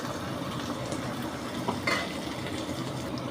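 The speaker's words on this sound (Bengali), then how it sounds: "পেঁয়াজ বেশ ভালো করে ভাজা হয়ে আসছে" Onions frying in a pan as the base for a Bengali katla kalia fish curry: a close, steady sizzle with faint crackles and a soft stir or two, and no talking.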